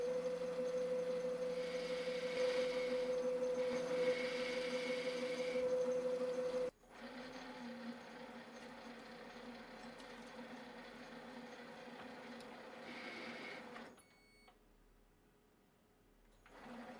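A metal lathe turns an internal bore down to 19.5 mm for a 20 x 0.5 mm thread on a compact rotary broach, giving a steady machine whine with a constant tone, cutting noise rising and falling, and a brief drop near the end.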